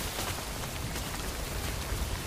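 Steady rain pours down in a video game, a dense, even hiss of drops filling the whole clip at constant loudness with no other sounds.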